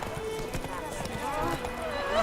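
In The Witcher 3 video game, a horse gallops with rapid, rhythmic hoofbeats close by, under a voice speaking throughout.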